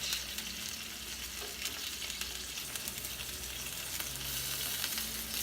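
Shrimp fry in olive oil for a seafood paella with scallops and chorizo, a steady close sizzle and crackle with light stirring, continuous and without talk.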